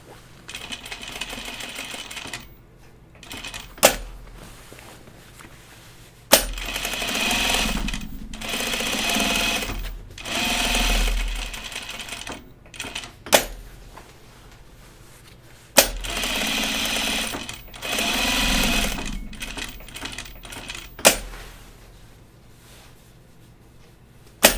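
A sewing machine stitches overalls from a Helen's Closet Yanta pattern, running in several whirring bursts split by pauses and sharp clicks as the fabric is repositioned, with no speech.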